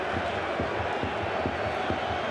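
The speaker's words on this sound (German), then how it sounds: "Und das ist der Jubel der Bayern" Stadium crowd roaring in celebration after Bayern Munich score against Schalke 04 in 2010, a dense continuous wall of cheering with rhythmic chanting thumps underneath.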